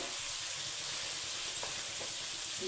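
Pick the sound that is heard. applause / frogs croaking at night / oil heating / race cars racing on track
oil heating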